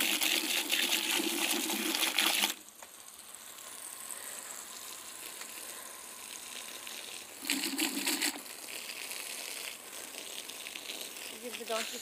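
Water poured out for a donkey on a farm on a cold morning: a loud close gush with splashing runs for a couple of seconds, softer trickling follows, then a second shorter gush, with some speech around it.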